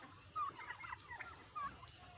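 Turkeys gobble faintly on a farm where they are kept alongside Kadaknath chickens, two or three short warbling bursts at a distance over quiet background.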